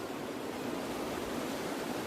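Flowing water in the Smoky Mountains gives a steady, even broadband rush, close and continuous like a stream or small cascade, with no talking over it.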